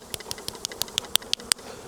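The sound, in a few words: knocking bees off a beehive frame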